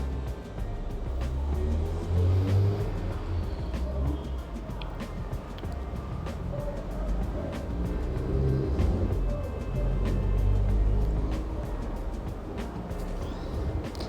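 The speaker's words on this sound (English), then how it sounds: "we're in the traffic now" Car traffic on a rainy day is heard from inside a vehicle as a steady low rumble of engines and tyres on wet road, continuous and moderately loud throughout.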